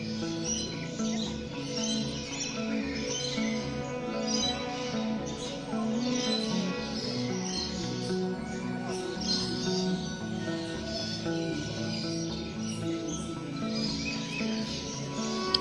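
A colourful long-tailed bird calls at Ramoji Film City in Hyderabad, with bright, repeated chirps and tweets rising over a steady layer of birdsong for the whole stretch.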